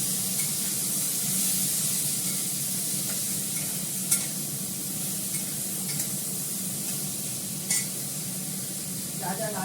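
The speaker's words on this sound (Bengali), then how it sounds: "বেগুন আর আলুটা দিয়ে দিলাম।" Eggplant and potato fry in a pan with a steady, close, hissing sizzle that runs throughout, broken by a few faint clicks and pops.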